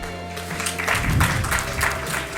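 An audience at an awards event breaks into a short burst of applause, fairly faint and spread out, swelling briefly then holding steady with scattered clapping.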